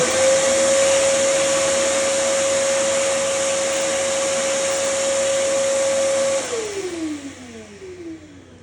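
A shop vacuum runs loud and steady while a spruce guitar top is scraped around its bindings and purflings, its motor tone holding level for several seconds before winding down and fading near the end.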